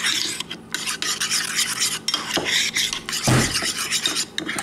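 Lemon juice being stirred into a seasoning mix for salmon, a steady scraping and rubbing of a utensil in a bowl, close and fairly loud with a sharper clink near the end.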